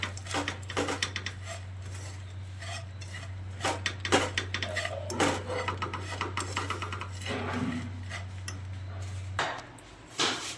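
A spoon scrapes and stirs cardamom powder into thick gulkand in a pan, with repeated gritty rasps and clicks over a steady low hum that cuts out near the end.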